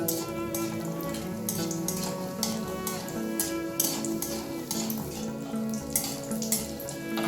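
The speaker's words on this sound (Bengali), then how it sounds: "তাই গরম তেলের মধ্যে বড়িগুলোকে দিয়ে দিলাম" Dried lentil dumplings (bori) fry in hot oil, a steady, fairly quiet crackling sizzle that holds all the way through with no talk.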